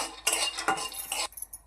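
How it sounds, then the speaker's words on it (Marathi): Peanuts roasting in a pan while a spoon stirs them, giving bursts of scraping, rattling clatter in two or three short sweeps, close and fairly loud with no talk. "त्यासाठी 2 चमचे शेंगदाणे थोडेसे खरपूस भाजून घेऊया।"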